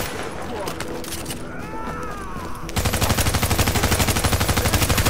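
Video game gunfire crackles steadily through the scene, a dense run of rapid automatic shots near and loud, with a voice talking over the opening stretch.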